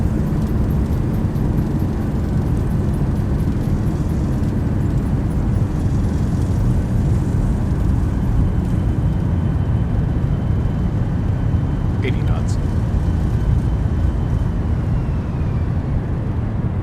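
A steady, loud roar fills the whole stretch as the thrust reversers of a simulated Zibo Boeing 737-800 run during landing rollout in X-Plane 11, a broad even rumble with a brief chirp near the end.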